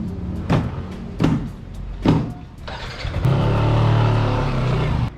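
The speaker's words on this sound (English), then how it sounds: "we jumped on the scooter, found a straight bit of road" A scooter rides along a straight road, its engine droning steadily after a few short bursts of wind buffeting and rumble, loud and close throughout with no talk.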